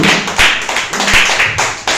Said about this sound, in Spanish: Den un fuerte aplauso al Espíritu Santo.